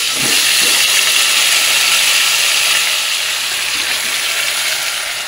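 Marinated chicken dropped into hot mustard oil with dried red chillies in a kadai, giving a loud, steady broadband sizzle that holds strong throughout and eases slightly toward the end, with no talking.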